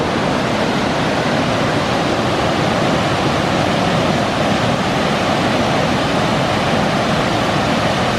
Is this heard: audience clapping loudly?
no